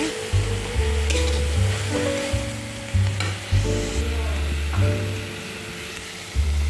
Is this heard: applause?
no